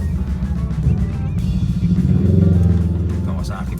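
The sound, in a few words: Kawasaki Vulcan motorcycle in traffic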